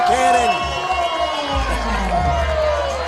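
Crowd noise at a cornhole match, a continuous roar and cheering under an announcer's voice.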